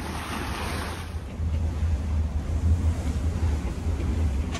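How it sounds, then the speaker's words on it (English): Wind and waves at sea while sailing, with a steady blustery wind roar and rushing water close by that grow louder after the first second and continue without pause. "And the wind picked up already."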